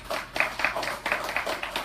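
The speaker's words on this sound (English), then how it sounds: "Let's give him a round of applause." A small audience at a gun club gathering claps for their new shooting instructor, a sparse, uneven round of hand claps with distinct individual slaps, fairly close and moderately loud.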